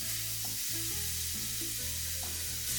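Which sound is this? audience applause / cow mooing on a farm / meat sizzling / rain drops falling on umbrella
meat sizzling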